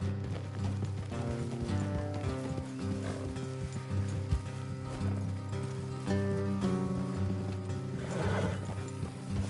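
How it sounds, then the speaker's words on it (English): Horses in the video game Red Dead Redemption 2 move along with steady hoof clatter and a whinny, mixed with tense orchestral game music and tack noises, fairly quiet and continuous. "Let's leave the horses here and go the rest on foot."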